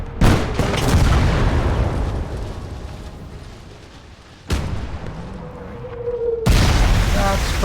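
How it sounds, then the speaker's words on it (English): Artillery guns firing in the WWII video game Blood Red Snow, several heavy booms with long rumbling decay, one around the middle and another near the end, with someone talking over the battle noise. "let's bring our artillery to bear"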